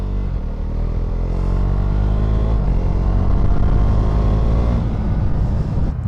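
A Husqvarna Svartpilen 401 motorcycle ridden on gravel, its engine droning loud and close with shifting revs, while tyre crunch and rumble fill the low end throughout.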